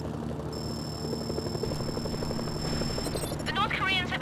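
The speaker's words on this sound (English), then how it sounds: "Incoming helicopters." North Korean military helicopters in the Mercenaries video game make a steady rotor drone with whirring buzz, holding throughout at moderate loudness, with a high electronic tone joining partway and a brief burst of other sound near the end.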